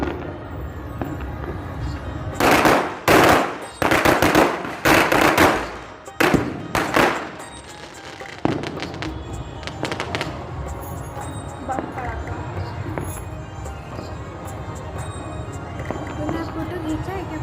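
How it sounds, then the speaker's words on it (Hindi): Firecrackers and fireworks go off at a family Chhath festival gathering after the evening offering: a quick string of loud, sharp bangs and cracks, then scattered fainter pops, with crowd noise and voices around them. "अर्घ देने के बाद रिलैक्स मूड में परिवार वाले पटाखा आतिशबाजी छोड़ते हुए"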